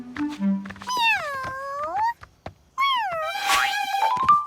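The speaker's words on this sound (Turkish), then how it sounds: "Ah ne güzel bir kedi." A cartoon cat meows twice, long drawn-out wailing calls up close, with soft background noises between them.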